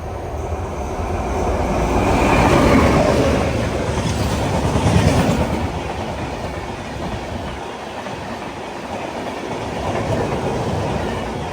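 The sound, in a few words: express passenger train passing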